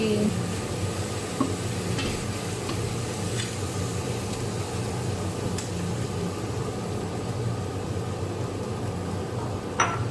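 Aromatics including fingerroot stir-fry in a pan, with a dense, steady sizzle and constant close scraping and stirring for the whole stretch, plus a few sharper clinks.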